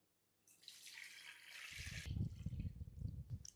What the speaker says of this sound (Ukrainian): Заливаємо холодною водою повністю, щоб вода покрила яйця.